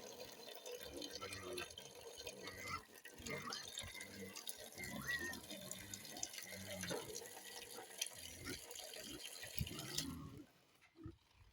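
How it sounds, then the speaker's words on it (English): Water runs from a hose or tap into a pig's pan on a farm, a continuous splashing fill with a few grunts and a voice talking over it, cutting off near the end. "There, now I can actually get water in your pan."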